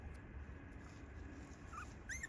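Newborn puppies born at a doorstep let out faint, high, thin whimpers, a couple of soft squeaky cries near the end over a quiet background.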